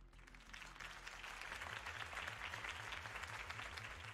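A crowd applauds a political campaign speech in a Batman adventure video game, steady dense clapping rising slightly and sustained, heard at a moderate distance over a low pulsing musical bass.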